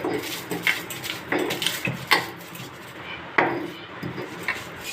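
Dry-roasted spices being ground by hand on a grinding stone, a scraping rhythm of rubbing strokes with occasional knocks, close and moderately loud, with no talk.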